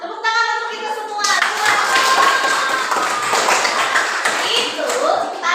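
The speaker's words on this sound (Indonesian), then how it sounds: "Tepuk tangan untuk kita semua." A classroom of schoolchildren bursts into quick hand clapping after a teacher's voice, the claps dense and close for several seconds, mixed with children's chatter and voices throughout.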